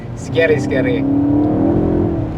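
A car braking and stepping out into lift-off oversteer on a track, heard as a steady engine drone and tyre whir under a person talking, fairly loud and close.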